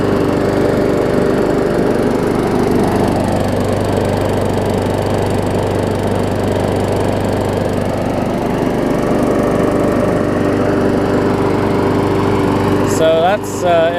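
A warm Briggs and Stratton OHV small engine with a new-style all-plastic carburetor runs steadily at close range, a constant loud drone throughout with a brief clatter of other noise near the end.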